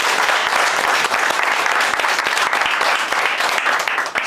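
Loud, sustained applause from an audience at a sales and business meeting, a dense steady clatter of many hands clapping close by for several seconds with no pause.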